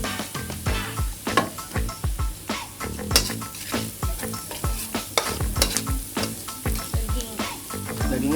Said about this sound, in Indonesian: pas menumis ini memang luar biasa nih, wanginya aja udah kecium gitu